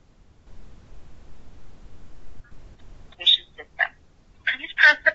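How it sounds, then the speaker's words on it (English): A phone receives an incoming multi-factor authentication call for an Exchange and Skype sign-in. After a near-silent start, short bursts of electronic ringing tones come in the last two seconds. "you would hear my phone coming in."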